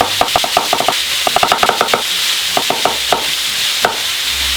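Onions frying in a pan and being stirred for a Hungarian goulash, a rapid run of sharp scraping and clacking strokes against a steady sizzle, loud and close.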